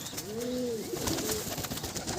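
A male Madrasi pigeon with black-speckled eyes and clipped wings gives a couple of soft, rolling coos close by, set against a constant noisy background hiss.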